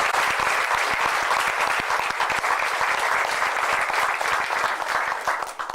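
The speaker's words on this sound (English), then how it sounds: "a round of applause for Clyde Bellecourt" An audience welcomes speaker Clyde Bellecourt at a 1999 student event with steady, loud applause, many hands clapping in a continuous wash that fades slightly at the end.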